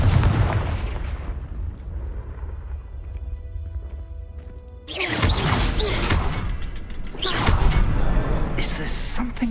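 A Confringo blasting spell in Hogwarts Legacy erupts as a loud, sudden burst of explosive noise, followed by a second crashing blast a few seconds later over a background of ambient game sound.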